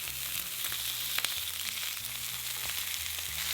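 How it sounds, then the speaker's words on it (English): Pork belly frying in avocado oil in a pan over high heat, giving a steady, dense sizzle that runs the whole time with a faint low hum beneath, close and fairly quiet, with no voices. "Pan fry until golden brown for about 5 minutes."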